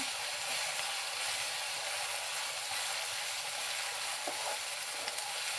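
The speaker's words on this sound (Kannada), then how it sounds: "ಟೊಮೊಟೊ ಚೆನ್ನಾಗಿ ಸ್ಮ್ಯಾಶ್ ಸಾಫ್ಟ್ ಆಗಬೇಕು, ಅಲ್ಲಿವರೆಗೂ ಸ್ವಲ್ಪ ಫ್ರೈ ಮಾಡ್ಕೊಳ್ಳಿ" Tomatoes sizzle and fry steadily in a pan while cooking down for a dry ladies finger fry, a soft continuous crackle with faint occasional stirring clicks and no talking.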